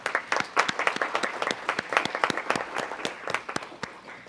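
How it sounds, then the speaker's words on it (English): Applause from the audience at a city council meeting, many hands clapping in a dense, steady burst with sharp peaks, fairly close and alone without talk. "So give him a round of applause."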